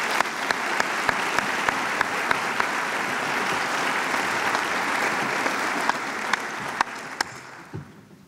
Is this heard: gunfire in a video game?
no